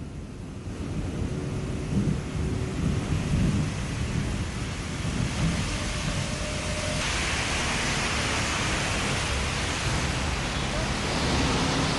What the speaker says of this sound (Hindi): बादलों ने डेरा डाल रखा है और बारिश हो रही है